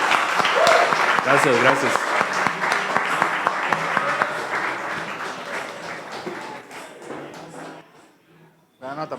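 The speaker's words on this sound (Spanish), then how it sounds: "un aplauso para Andrés" Audience applause for a presenter at a tech meetup, a broadband patter of many hands filling most of the clip with a voice talking over it, thinning out and briefly dropping away near the end.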